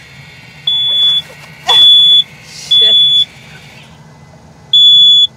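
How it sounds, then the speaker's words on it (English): Smoke alarm set off by toast-making in a campground vehicle, sounding four loud, sharp electronic beeps in a steady stop-start rhythm, with a brief muttered voice between them. "Every time I make toast, the alarm goes off."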